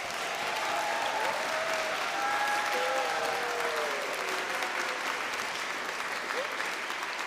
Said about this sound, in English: big cheer and clap